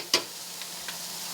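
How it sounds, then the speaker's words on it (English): Risotto with butter being stirred in a pan, one sharp spoon scrape followed by a couple of fainter ones over a soft, steady sizzle. "stirring our risotto until it's nice and creamy"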